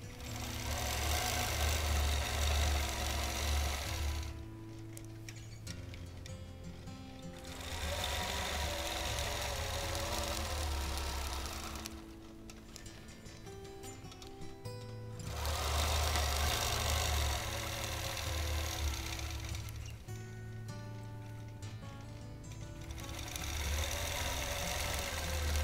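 Quilting sewing machine stitching a small wholecloth quilt, running in loud sustained bursts of rapid mechanical whirring and knocking that stop and restart several times, with no talking.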